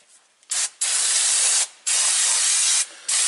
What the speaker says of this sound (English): I'm going to just thoroughly spray these brake pads